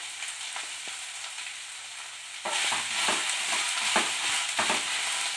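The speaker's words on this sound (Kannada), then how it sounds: "ನೆಕ್ಸ್ಟ್ ಕ್ಯಾರೆಟ್ ಹಾಕೊಳ್ಳಿ ಸ್ವಲ್ಪ ಚೆನ್ನಾಗಿ ಫ್ರೈ ಮಾಡಿ" Carrots being stir-fried in a pan for a vegetable roll, a continuous sizzle that grows louder partway through, with intermittent scraping and stirring clatter up close.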